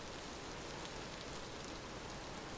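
Steady, dense rainfall in the video game Vintage Story, an even broadband hiss of drops hitting the ground that holds constant throughout, fairly quiet, with no voices.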